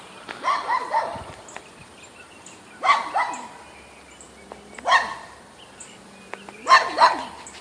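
A dog in a residential neighborhood barks in four separate bursts about two seconds apart, each a quick cluster of loud, fairly close barks, with quiet gaps between.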